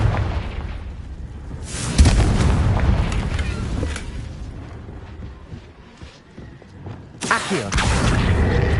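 Confringo blasting spell exploding in Hogwarts Legacy, heavy booming blasts with a sharp onset around the middle and another near the end, each followed by rumbling decay.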